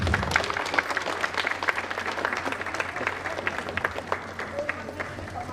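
Crowd at a 78th Independence Day 2024 event clapping together, a dense, lively patter of many hands at fairly close range, with voices mixed in beneath the applause.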